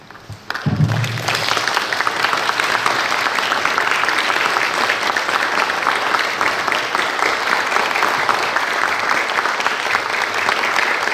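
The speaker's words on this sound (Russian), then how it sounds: "все вместе – проводим ее аплодисментами" Sustained audience applause fills a theatre at a farewell ceremony for an actress, beginning abruptly after a brief quiet moment and continuing loud and steady throughout, dense and even with no break.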